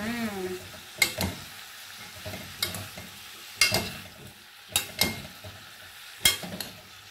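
Vegetables are stirred and fried in a pan with a spoon, a steady sizzle broken by several sharp, close scraping strokes spaced about a second apart, with no voices.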